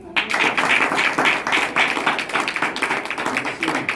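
Congregation clapping hands at a Sunday church service, a brisk, loud burst of many claps in quick rhythm, close and continuous.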